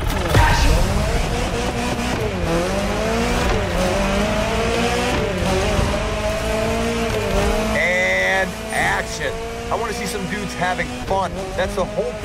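Off-road buggy race in The Crew Motorfest: steady, loud engine drone with rising and falling revs through the whole stretch, tire squeal and skidding mixed in, with talk over the top.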